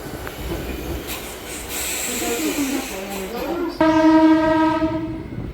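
A MEMU local train runs at Bhimavaram Town station with a steady rumble and a wheel squeal, then a loud, sustained horn blows near the end.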